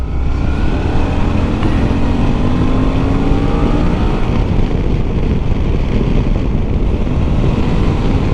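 A Suzuki V-Strom 650 motorcycle rides through corners, its engine droning steadily with a shifting pitch as it accelerates, mixed with constant heavy wind rush over the microphone and no talking.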